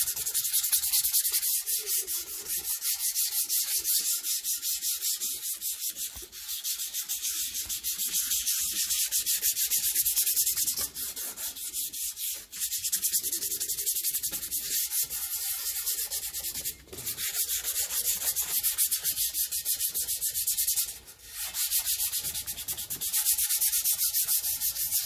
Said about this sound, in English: we'll just get a few bits of sandpaper there anyway. So what I'm looking for here is just to give it a little bit of roughing